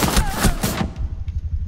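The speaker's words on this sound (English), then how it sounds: "Shooting from the hip of Maestro" Maestro's gun firing from the hip in the shooter video game Rainbow Six Siege, a rapid burst of loud close shots for under a second, followed by a lower rumbling tail.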